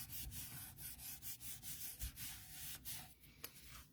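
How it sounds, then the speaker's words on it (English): A card layer is burnished by hand, making faint, quick, scratchy rubbing strokes in a rapid repeating rhythm, close but very quiet, with no talk. "I'm going to turn it over and burnish it."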